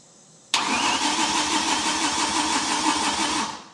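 A BMW V10 engine cranks steadily without catching, a loud, continuous starter whir and churn that begins abruptly and runs for about three seconds before tapering off, with no one talking.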